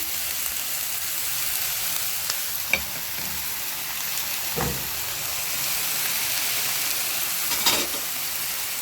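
Zucchini frying with mixed vegetables: a constant close sizzle and hiss with occasional soft stirring scrapes and knocks of a utensil, steady in level throughout.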